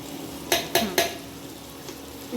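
Spices with coriander powder fry in a pan for kadhi, with three quick scraping stirs close together near the start over a soft, continuous sizzle.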